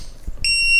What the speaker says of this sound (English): This thing will beep very loud.